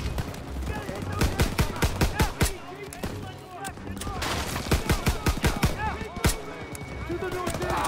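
Rapid machine gun fire from a barn during a World War II Normandy battle in Call of Duty: WWII, loud close bursts of rattling shots in repeated volleys, with shouting voices mixed into the din.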